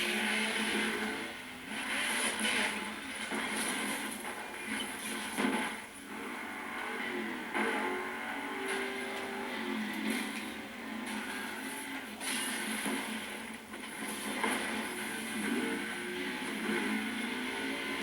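Traffic car driving in the racing video game Burnout Paradise, a steady engine and road drone with whooshing passes and tire noise, fairly quiet and continuous without talk.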